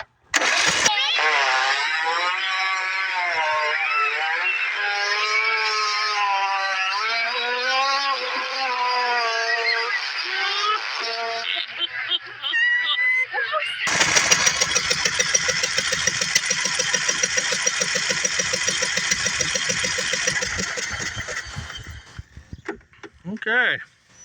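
A long-idle Craftsman riding mower cranks over with a whirring starter, then its small engine catches and runs with a loud, rough, rapid knocking chatter that dies near the end; a voice can be heard briefly.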